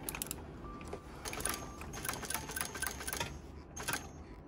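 A walking-foot (compound feed) sewing machine stitching a bag, running in a quiet, rapid mechanical clatter of repeated needle strokes, faint and steady throughout.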